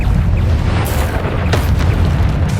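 Bombarda spell blasts from Hogwarts Legacy come as loud, dense booms and bursts layered over a constant rumbling game soundscape.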